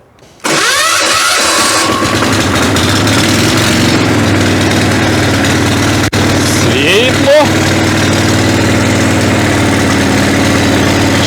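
Weima walk-behind tractor engine cranked by its starter, catching almost at once and then running at a loud, steady idle close by, with a brief clank partway through.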